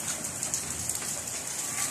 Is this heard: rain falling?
yes